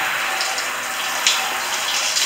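A bathroom tap runs in a steady, full hiss of flowing water close by, rushing into a basin during cleaning, with no speech.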